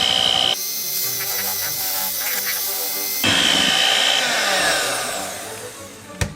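Electric mixer beating eggs into New York-style cheesecake batter, a loud steady motor whine that shifts in tone partway through, close up, ending with a brief clatter.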